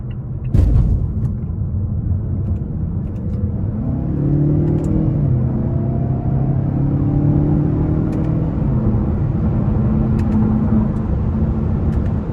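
A 2021 Mazda 6 Carbon Edition cruises with a steady, close engine drone and road rumble, its pitch climbing and dipping as paddle-shifted gears change, with one sharp click near the start.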